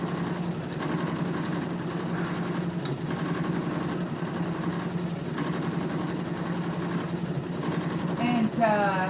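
A Janome Continental M17 sewing machine hums in a steady continuous run, close and fairly loud, with a person talking over it.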